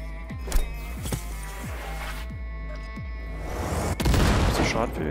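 Gunfire in the video game Cyberpunk 2077: evenly spaced shots pop one after another, followed by a louder, denser burst of firing near the end.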